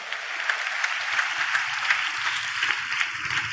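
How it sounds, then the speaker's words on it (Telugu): A church congregation claps steadily while praising, a sustained wash of many hands at an even, busy rhythm, with faint voices underneath. "చప్పట్లు కొడుతూ స్తోత్రాలు చెప్దాం."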